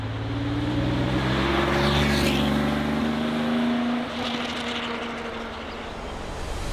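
A 1970s Porsche 911 2.4 E drives on a snowy, icy historic regularity rally course in the Jura, its engine a steady, loud drone with rising and falling harmonics throughout, no voices.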